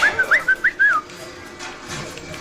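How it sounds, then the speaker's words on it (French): A robot-summoning alarm in the game BioShock gives a short warbling electronic whistle that rises and falls for about a second, then gives way to a faint, steady background hum. "Vous entendez en plus le truc qui appelle les robots, ça siffle comme un chien."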